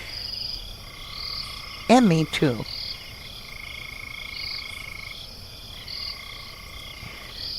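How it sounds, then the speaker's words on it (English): Frogs croaking at night from frogs that hatch after rainstorms, a steady layered chorus of trilling calls under insect-like buzzing, briefly interrupted by a short spoken phrase. "we have frogs that hatch after rainstorms."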